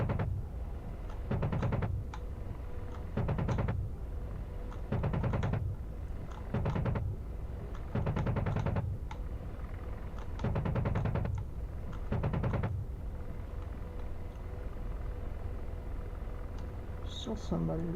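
Bursts from the 30 mm chain gun of an AH-64D Apache in DCS World, seven or eight short rhythmic volleys of rapid thudding shots at steady intervals, loud over a continuous engine hum, with talk underneath.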